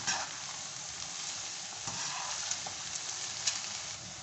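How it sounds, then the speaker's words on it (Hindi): Okra (bhindi) frying in oil over a medium gas flame, a continuous soft sizzle with small pops and crackles, steady and moderately quiet throughout. "जिस तरीके से चिप्स तलते हैं इस तरीके से आपने इनको तलना है।"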